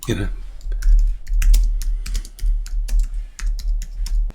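Computer keyboard typing while editing text on a sales page, with a fast, uneven run of crisp, close key clicks and a steady low hum underneath.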